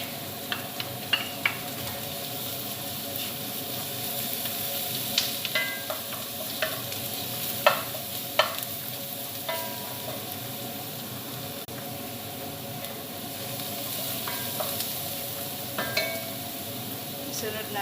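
Garlic frying in a pan as the start of a lamb leg soup: a constant soft sizzle and hiss with scattered sharp clicks and taps of a utensil stirring, close and steady throughout.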